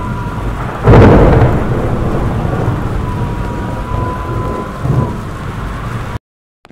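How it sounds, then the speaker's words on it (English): A powerful thunderstorm in the video game Bertram Fiddle 2 breaks with a loud thunderclap, then heavy steady rain pours and a second rumble swells near the end before the sound cuts off. "There is a storm coming. This is a particularly powerful storm."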